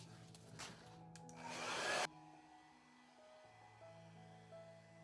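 A blow dryer held upside down and run on low over wet paint gives a steady airy whoosh for about two seconds before cutting off, leaving a quieter hum behind.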